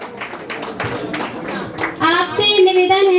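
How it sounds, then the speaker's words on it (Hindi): An audience at a Jain Kshamavani society gathering in Wakad, Pune claps in welcome, with scattered claps and voices before a sustained tone takes over. "सभी लोग तालियों द्वारा स्वागत करें।"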